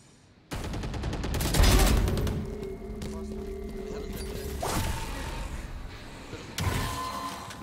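Automatic gunfire from the video game Valorant, a dense rapid burst of shots that starts abruptly and continues with mechanical clatter, followed by a further short burst near the end.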